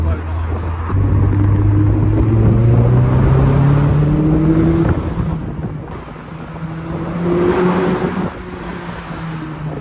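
A Mazda MX-5 engine with a newly installed exhaust hums from inside the cabin, its pitch rising smoothly as it accelerates, easing off, then climbing again, with light wind noise.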